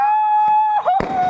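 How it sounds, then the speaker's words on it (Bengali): At a celebration of India's T20 World Cup 2024 cricket win, a steady high whistling tone is followed by one sharp firecracker bang close by. "অবশেষে দেখো আমরা অবশেষে বাজি ফুটাচ্ছি।"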